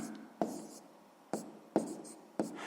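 Pen or pencil writing on paper while working a sixth-grade math exercise: four quiet, separate scratchy strokes with short decays, close by and faint, with no one talking.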